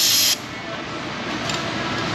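Lubricant sprayed onto a stuck bolt during a Honda strut job, a brief sharp aerosol burst at the start followed by a fainter steady hiss.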